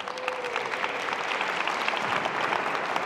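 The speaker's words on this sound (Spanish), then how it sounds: "dale un aplauso, por favor." Audience applause for a woman standing up in the crowd at a business and entrepreneurship talk, steady dense clapping filling the room throughout, with a brief voice at the start.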